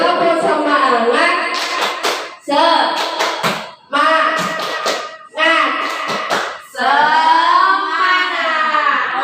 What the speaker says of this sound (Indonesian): Hitungan ketiga, 3, 2, 1, tepuk semangat.